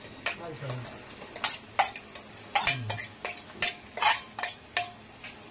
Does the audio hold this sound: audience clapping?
no